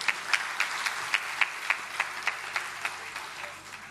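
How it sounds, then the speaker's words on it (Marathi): An audience at a spiritual talk claps in a steady, rhythmic beat, many hands together in a hall at moderate distance, continuing evenly for several seconds without speech. "टाळ्या वाजवा यांच्यासाठी"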